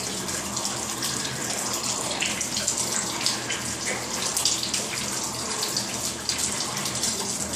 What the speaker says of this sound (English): what we see is that the water's leaking in like crazy